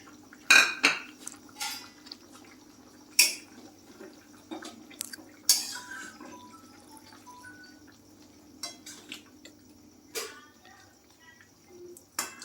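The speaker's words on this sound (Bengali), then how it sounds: "এবার ঝোলটা ফুটে এসছে এবার আমি চিংড়ি মাছগুলো এর মধ্যে দিয়ে দিচ্ছি" Prawns are dropped into a pot of simmering gravy for a Bengali potol chingri, giving several sharp metallic clinks and clatters of utensil against pot, with faint dripping and bubbling between them.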